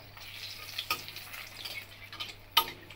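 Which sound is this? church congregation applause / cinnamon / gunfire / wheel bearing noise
cinnamon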